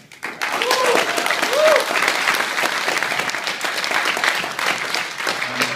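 Audience applause after a speaker's talk, a steady dense clapping that swells quickly and holds for several seconds, loud and close, with a few voices mixed in.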